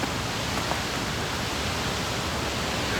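Crystal Creek Waterfall in Shasta-Trinity National Forest, Shasta County, California, rushes in a dense, steady broadband roar of falling water, loud and close, with no breaks or other sounds.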